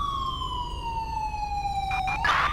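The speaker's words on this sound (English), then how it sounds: "I'm gonna get the siren off." Police car siren in the GTA 5 video game: one long wail sweeps slowly downward and holds steady, loud and close, then ends in a short burst of clatter.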